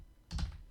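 A single quick burst of computer keyboard typing while HTML code is entered, close and soft against a quiet room.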